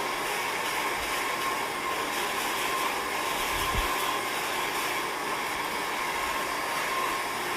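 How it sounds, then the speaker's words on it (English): A hair blow dryer runs steadily close by while hair is combed straight behind the nozzle, a constant loud whooshing hiss with a brief low thump partway through and no talking. "the blow dryer is right behind it"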